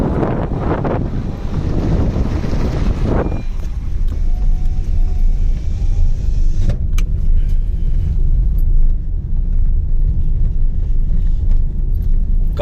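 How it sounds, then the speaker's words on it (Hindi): A car climbs a steep hill in first gear on sand or soil dunes near Ambikapur, producing a loud, constant low engine drone under heavy wind buffeting on the microphone. "गाड़ी जो है वो फर्स्ट गियर में लेके चढ़ानी पड़ती है"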